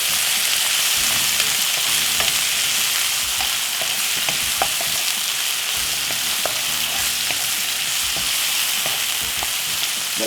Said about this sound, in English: Let this fry for about 5 minutes.